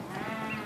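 Sheep bleat steadily on a remote farm near Gisborne, New Zealand, as working dogs muster the flock toward the main shed; a dense, continuous chorus of overlapping bleats with no speech.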